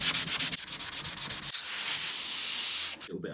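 A car body panel's primer is hand sanded with 320 grit sandpaper. Close rhythmic rubbing strokes give way to a long continuous scrub, then a brief pause and a few short passes.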